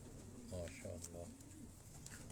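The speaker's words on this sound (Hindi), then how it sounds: "ये सर रईस साहब के हाथ में एक कबूतर आप देख रहे हैं, ये इम्पोर्ट हुआ हुआ, ये इम्पोर्टेड कबूतर है।" An imported racing pigeon coos softly in a few short, low, throaty bursts, close but faint, with someone speaking over it.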